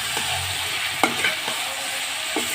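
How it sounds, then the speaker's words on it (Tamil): Chopped ridge gourd sautés in a hot pan with a steady sizzling hiss, broken by a few scraping clicks of a spatula stirring it, close up with no voices. "இப்போ அரிஞ்சு வச்சுருக்கிற பீர்க்கங்காயை போட்டுக்கிறேன். அது கூட சேர்த்து வதக்கணுங்க."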